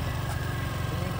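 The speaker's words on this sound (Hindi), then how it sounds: "स्कूटी का इंजन ऐसे मत करो" A small scooter engine runs with a low, steady, pulsing drone, close by and moderately loud, during a scooty riding lesson along farm fields.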